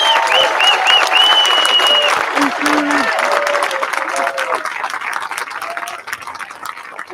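Graduation audience applauding enlisting graduates at a 2021 high school commencement: sustained dense clapping from a large crowd, loud and steady, with a sustained tone, likely music or a horn, heard over it early on and easing slightly toward the end.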